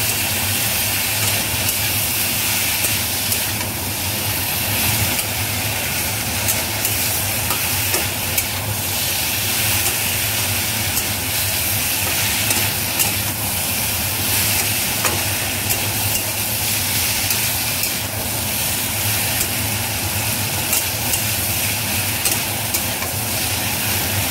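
Spice paste for shukto keeps frying in a kadai, a continuous even sizzle and hiss with faint stirring, close by and without any speech.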